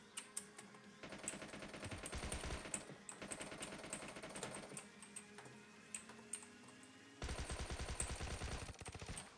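Rapid automatic gunfire in PUBG Mobile, several dense bursts of fast clicking shots at moderate level, separated by short quieter gaps.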